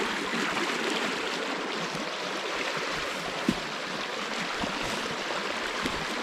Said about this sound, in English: the creeks are up nice and high. Crystal clear water too.